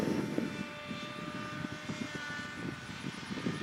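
ReadyMadeRC Surfer 1500 RC plane coming in to land, a faint, steady electric motor whine with a thin tonal hum, heard at a distance under light outdoor rumble.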